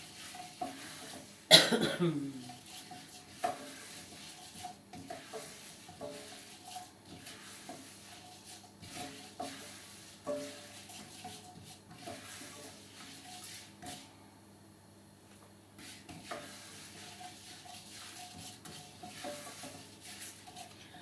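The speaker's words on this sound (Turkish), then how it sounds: "Biberlerimizi güzelce yakmadan kızartıyoruz." Quiet sizzling from peppers frying in a pan, with occasional stirring scrapes and one sharp clatter early on, continuing softly without talk.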